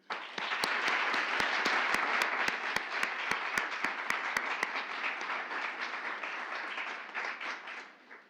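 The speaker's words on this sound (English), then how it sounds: "Please give them a round of applause." A crowd at a graduate education award ceremony applauds steadily for several seconds, dense clapping that holds strong and then tapers off at the end.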